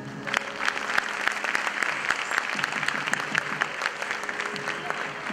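An audience claps for a dance performance, a dense, steady round of applause from a crowd that holds evenly throughout at moderate loudness.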